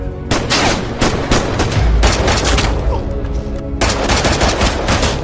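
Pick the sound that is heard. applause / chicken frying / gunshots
gunshots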